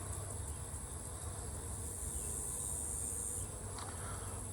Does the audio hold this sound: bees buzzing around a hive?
yes